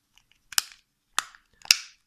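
Plastic latches on a Sagem my212X mobile phone housing snap into place as the cover is clipped on, three sharp, close clicks spaced about half a second apart with faint ticks between, no talk.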